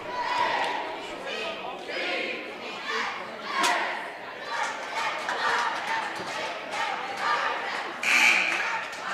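Fans cheer and shout at a high school girls' basketball game between Warren County and Strasburg, a loud, swelling crowd roar with chatter that keeps rising and falling, plus a sharp burst near the end.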